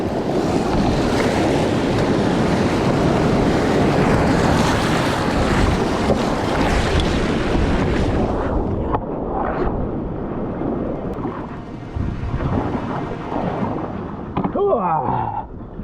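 A stand-up paddleboard runs through river rapids on the Swan River, loud rushing water and wind buffeting the microphone, then the roar drops to quieter flowing water with splashes near the end.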